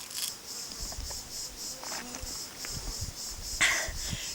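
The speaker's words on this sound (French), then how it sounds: "On a beau entendre les cigales" Cicadas in Tanzania make a steady, pulsing high-pitched buzz that rises and falls in regular beats and carries on throughout, with a sharper burst near the end.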